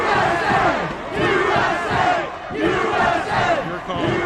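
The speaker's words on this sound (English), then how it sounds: "It's a very energetic crowd." A large, energetic crowd of protesters at the U.S. Capitol chants and roars continuously, loud and close, with rising and falling waves of voices.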